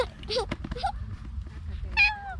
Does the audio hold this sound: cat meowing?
yes